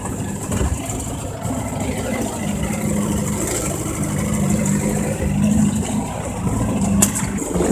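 A 1962 Crestliner boat's engine drones steadily and builds slightly in loudness as it accelerates, with wind and water rush over a continuous low hum.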